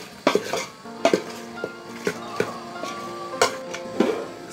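Chicken frying with turmeric, salt and oil in a pan, heard as sharp metallic clinks of a spoon against the pan at roughly one-second intervals over a low, quiet sizzle, without any speech.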